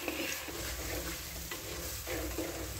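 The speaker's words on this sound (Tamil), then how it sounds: "இந்த வெங்காயத்தை நல்லா பொன்னிறம் வர வரைக்கும் இது நல்லா வதக்குங்க." Onions sauté in a pan for a peanut, brinjal and mackerel fish gravy, giving a close, continuous sizzle with soft stirring scrapes and no talking.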